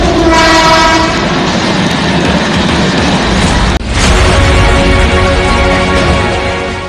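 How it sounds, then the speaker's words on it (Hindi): Tejas Express train at Lucknow station, a loud, close roar of a passing train with a sustained blaring horn, a brief break midway, then the rolling rumble and clatter continues. "लखनऊ स्टेशन पर अपने सफर की शुरुआत का इंतजार करती ये वही तेजस एक्सप्रेस है"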